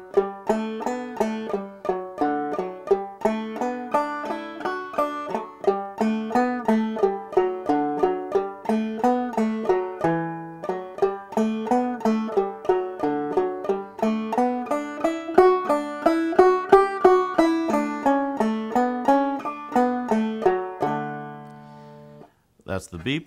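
Clawhammer banjo plays the B part of Liberty, a brisk run of twangy plucked notes and frailing strums in a driving, even rhythm, close and alone, ending with a last ringing note and a faint handling noise.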